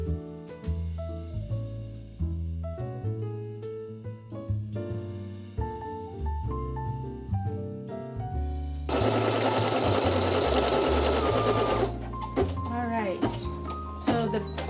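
An embroidery machine stitches a basting stitch through vinyl on a hooped stabilizer, a steady, rapid mechanical whirring and clatter that runs continuously and changes character partway through, with music playing over it.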